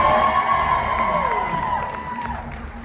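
A crowd at a Knott's Scary Farm fan panel cheers and whoops loudly, with high shouts rising above the roar before it gradually fades.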